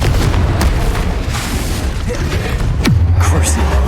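A heavy booming blast from the Confringo fire spell in Hogwarts Legacy, one deep explosive thump with a low rumbling tail over dense continuous game combat noise.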